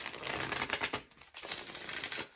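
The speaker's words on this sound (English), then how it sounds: "But I just got this deck, so I'm shuffling it a lot." A new deck of tarot or oracle cards being shuffled by hand, a dense riffling patter of card edges in quick bursts with a brief pause midway, close and fairly quiet, with no talking.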